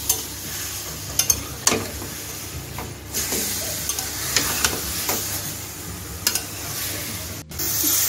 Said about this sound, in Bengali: দেখুন আমি অনবরত নেড়ে চেড়ে মাংসটাকে একটু শ্যালো ফ্রাই করে নেব